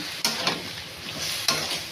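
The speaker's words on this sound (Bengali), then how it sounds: "আমরা মশলা একদম একটু হালকা ভাজা ভাজা করে সামান্য একটু তেল দিয়ে দিই" Spices frying gently in a little oil, a continuous soft sizzle broken by two sharp clicks of a spoon or spatula against the pan, close and alone without talk.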